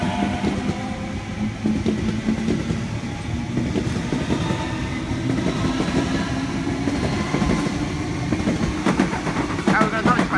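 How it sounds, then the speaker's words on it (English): Sydney Trains A set service A16 pulling out of Burwood station for Hornsby, a steady close rumble of rolling wagons with wheel clatter building throughout, loud and continuous. "Here we got the train. A16 departing for a Hornsby service."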